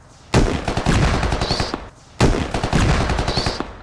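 Two long, loud bursts of rapid machine gun fire in a video game squad match, each a dense rattling volley of shots with a short pause between, close and dominant.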